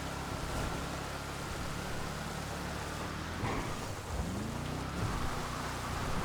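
Steady rain in the GTA 5 video game, a constant broadband hiss with rumbling low undertones and a car engine droning beneath it, no voices.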